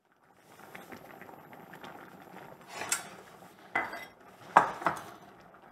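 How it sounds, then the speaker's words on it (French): Garlic rubbed around the inside of a gratin dish, giving soft scraping and rubbing against the ceramic, with a few sharper clinks and knocks near the end, close and fairly quiet. "Là, je frotte à l'ail, bien comme il faut."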